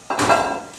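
A utensil knocks once against a pan while meat is mixed with onions and garlic for low-carb stuffed peppers, giving a bright metallic clank that rings briefly and fades.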